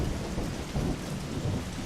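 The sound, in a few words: thunderstorm with rain in video game Wildlife Park 3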